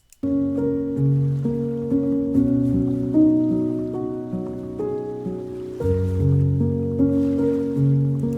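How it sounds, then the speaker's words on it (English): Ocean waves wash softly and steadily beneath calm, relaxing music, the surf a hushed, continuous hiss that stays in the background for the whole stretch. "Now let's put a sound effect with it of waves."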